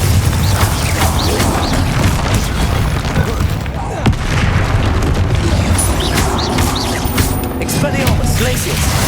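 Repeated Confringo spell explosions in Hogwarts Legacy combat, a steady barrage of booms and blasts layered with other spell effects and clatter, loud and continuous throughout.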